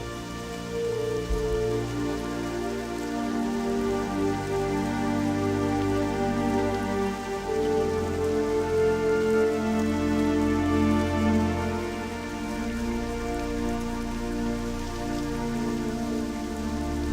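Rain falls steadily across Westfall in World of Warcraft Classic, a continuous loud wash of droplets with tonal game music layered underneath throughout.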